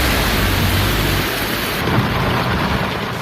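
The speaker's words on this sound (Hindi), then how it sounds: "दिल्ली में पिछले 6-7 घंटे से लगातार बारिश हो रही है" Heavy, continuous rain pours down during a thunderstorm in Delhi, with a low rumble of thunder under a dense, steady roar of rainfall, loud and close throughout.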